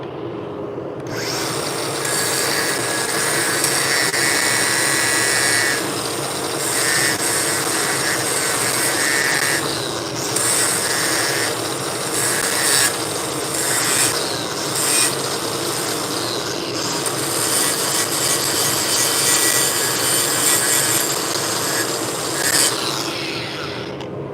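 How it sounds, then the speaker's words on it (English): An angle grinder fitted with a buffing or grinding disc works the start of a weld bead in a welding shop, a steady loud whine running continuously for the whole span with slight shifts in pitch as pressure changes, no talking. "So same thing, I'm going to buff grind the bottom side of that start."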